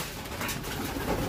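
A racing pigeon arriving at its loft after a smash race gives soft, brief cooing and fluttery sounds up close, over steady outdoor background noise.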